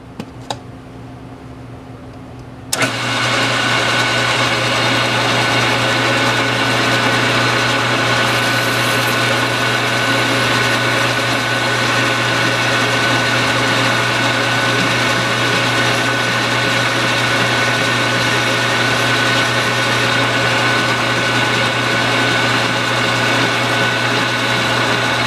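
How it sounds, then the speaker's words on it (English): Metal lathe spinning a 3D printed part chucked up for sanding, a steady loud whine and hum that starts abruptly after a quiet moment and runs evenly without pause. "So I've got this chucked up in my metal lathe."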